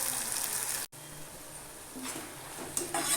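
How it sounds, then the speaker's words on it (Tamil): Tomatoes sautéing in a pan over a medium flame for an egg gravy, with a steady soft sizzle broken by a brief silence and a few light stirring scrapes toward the end. "இப்போ தக்காளி நல்லா வதங்கி வரட்டும் ஒரு ஃபைவ் மினிட்ஸ் நம்ம குக் பண்ணுவோம் மீடியம் ஃப்ளேம்லேயே வச்சு"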